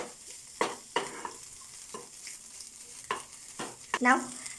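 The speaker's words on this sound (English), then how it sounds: "for a few seconds I'm going to put it on a high flame so it will get more roast" Egg macaroni pasta roasting in a pan over a high flame, with a soft steady sizzle broken by several sharp scrapes and knocks as it is stirred, fairly faint and close.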